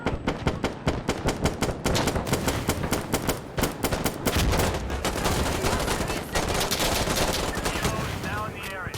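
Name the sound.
minigun fire in the video game Insurgency: Sandstorm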